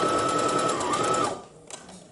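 A sewing machine stitches a knit V-neck neckband seam, humming loud and close for over a second before slowing to a stop, followed by a faint click.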